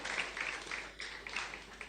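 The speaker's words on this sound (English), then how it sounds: "let us give Mrs. Peter a round of applause" Audience applause for a teacher at a school graduation ceremony, a dense wash of clapping from a crowd, steady and moderately loud throughout the short stretch.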